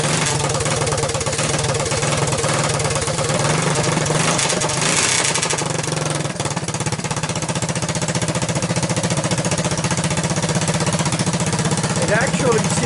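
Single-cylinder Honda ATC200 three-wheeler engine on its OEM ignition, running loud and close after a pull start, a steady rapid chugging idle that holds unbroken throughout.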